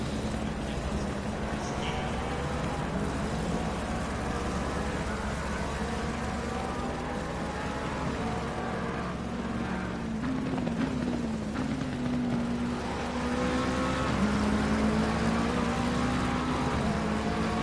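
GT3 race car engines roar around the Bathurst circuit in a sim racing game, a steady droning whine with rising pitch sweeps as cars accelerate, continuous and fairly loud throughout.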